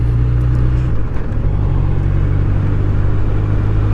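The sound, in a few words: Honda CB1100RS 1140cc four-cylinder motorcycle riding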